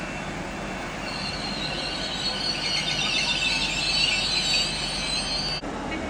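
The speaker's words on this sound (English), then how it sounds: "departing now is a Transpotting Express service to Manchester Victoria. 185139" A Class 185 TransPennine Express train pulls out of Leeds station with a steady roar and a long, high wheel squeal over the rails, loud and continuous throughout.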